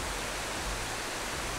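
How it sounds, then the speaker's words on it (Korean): Chiljipokpo, a waterfall on rocky Wolchulsan mountain in Yeongam, South Jeolla, pours down as a steady, dense rushing roar with no pauses. "물이 귀한 월출산의 체면을 세워주듯 힘차게 떨어지는 폭포"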